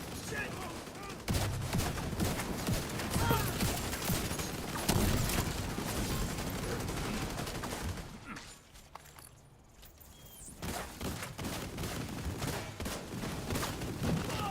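Rapid SMG fire in a video game, dense bursts of shots across most of the stretch with a brief lull near the end before firing resumes, while someone talks over it.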